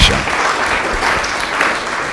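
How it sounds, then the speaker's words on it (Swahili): Loud, dense applause from a church congregation fills the whole stretch, steady clapping with no pauses. "Pigie Bwana makofi mengi mengi"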